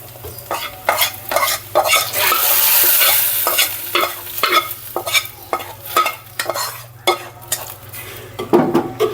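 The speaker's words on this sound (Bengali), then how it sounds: "তেলে পেঁয়াজ রসুন আর পাঁচফোড়ন দিয়ে দিলাম" Onion, garlic and panch phoron fry in hot oil with a steady sizzle, while a utensil scrapes and stirs the pan in repeated rhythmic strokes, close and clear.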